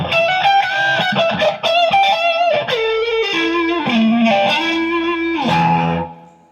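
Jet JS480 electric guitar played through heavy distortion, a run of sustained, gritty notes and chords shifting in pitch, loud and alone before fading out at the end.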